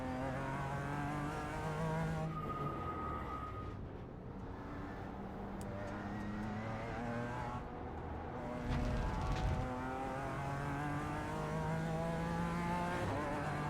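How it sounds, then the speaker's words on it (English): A sports car engine in the iRacing sim game drones steadily with rising and falling harmonic pitch, revving through gear changes at Indianapolis, loud and continuous throughout. "The engine doesn't sound great, I'll be honest."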